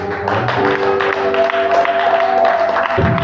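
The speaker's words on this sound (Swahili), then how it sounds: "Tupige makofi Yesu Kristo." A congregation clapping in a church, dense rhythmic hand claps from a crowd, with sustained music tones and voices mixed underneath.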